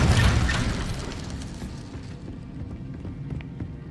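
A booming fiery burst from the Incendio fire spell cast in Hogwarts Legacy, loud at the onset and then fading into a rumbling, crackling tail.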